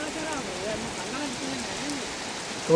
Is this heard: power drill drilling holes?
no